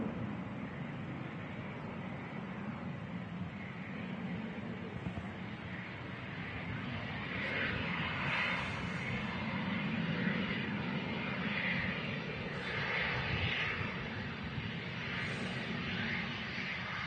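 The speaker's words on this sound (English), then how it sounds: "Got a Cessna citation," A Cessna Citation business jet touches down on runway 23 right at Manchester Airport, a faint, distant, steady engine roar and rumble that swells slightly midway without any talk over it.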